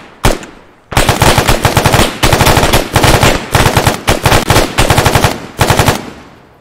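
Gunfire in the military sim game ArmA 3 during a convoy fight in Fallujah: loud, close automatic bursts, one short shot and then a string of rapid volleys with brief gaps between them.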